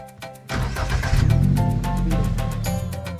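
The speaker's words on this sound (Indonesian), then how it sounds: "kami menumpang mobil paman" Uncle's pickup-type transport vehicle rumbling along in a rural oil-palm village, engine catching and then a steady, close mid-pitched drone with rhythmic clatter throughout.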